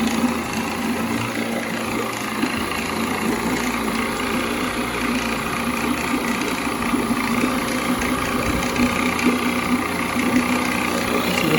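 A Mercury 7.5 hp outboard motor with a new water pump runs at a steady idle, its light buzzing drone and faint rattling vibration continuing evenly and close by with no talk over it.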